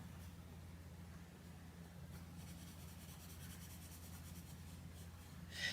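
Coloured pencil shading on thin paper in a colouring book: a soft, continuous scratchy rubbing, very faint and close, with a slightly stronger stroke at the very end.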